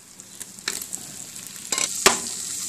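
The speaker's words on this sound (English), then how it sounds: "Saute the shrimp." Shrimp sauté in melted butter and garlic in a pan, giving a soft, close sizzle with a few sharp clicks and scrapes as they are moved around.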